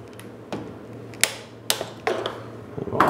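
Ratcheting clicks and mechanical creaks as a torque wrench tightens a bolt to 9 Nm during reassembly of a BMW R 1150 GS motorcycle's rear frame, several short close bursts separated by pauses, with no talking.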